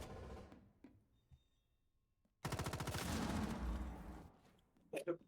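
Rapid automatic gunfire in Rainbow Six Siege X, a dense burst of close shots lasting about two seconds after a quiet lull, followed by a few sharp separate bangs.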